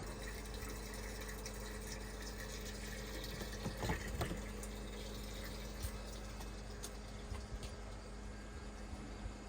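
Gasoline from a Terra pump flows into the tank of a KTM 690 Enduro R, a faint, steady liquid filling rush over a low pump hum, with a couple of small clunks midway and no talk.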